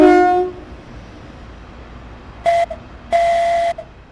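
A Hitachi-built Class 395 Javelin high-speed train in Train Sim World 2 at a London international station sounds its horn: a fading tone at the start, then a short blast and a longer sustained blast after a quiet gap.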